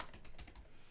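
Quick typing on a computer keyboard, a close burst of crisp clicking keystrokes in an uneven rhythm, with no voices over it.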